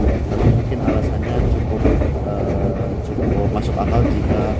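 Argo Semeru passenger train running on rails on a daytime Jogja–Jakarta trip, a loud, continuous rumble and rattle heard from inside the carriage.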